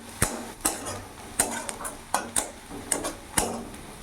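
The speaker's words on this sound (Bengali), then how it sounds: "ভালো করে নাড়াচাড়া করে কিছুক্ষণ ভেজে নেবো, যাতে পেঁয়াজের রসুনের কাঁচা গন্ধটা না থাকে।" Onion and garlic fry in a pan over a medium flame while a utensil stirs them, with sharp scrapes and taps coming at irregular intervals over a faint sizzle.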